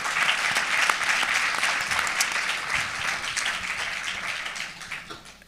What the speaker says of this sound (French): donc je voudrais que vous l'applaudissiez s'il vous plaît.